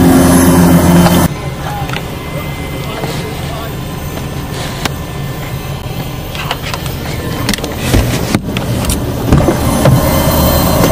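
Interior of a car while driving on errands, with a steady low road and engine rumble running throughout and a brief clunk near the start; some speech-like murmur sits faintly in the mix.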